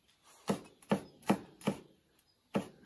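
Vegetables chopped with a knife on a board in a home kitchen, five crisp, evenly spaced chops at close range, a short pause before the last one, no voices.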